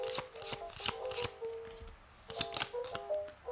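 A deck of tarot cards being shuffled by hand in a quiet room during a reading, with bursts of crisp riffling and flicking rising and falling across the clip.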